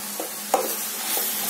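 Meal maker soy chunks being stirred and sautéed in masala in a pan, with a few soft scraping stir strokes and a faint sizzle, close and quiet with no talking.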